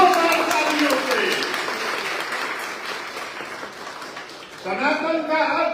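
Crowd applause rises to welcome Manish Kashyap at a youth reception in Motihari, a dense sustained clapping that fades in the middle and swells again near the end, with a voice over it.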